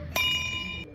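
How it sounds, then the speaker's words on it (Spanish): Bells ring out at nine at night over the town of Patate, Ecuador, opening a traditional night procession; a single bright metallic strike with a sustained ringing tone that hangs and fades over about a second. "las campanas rompen la quietud a las 9"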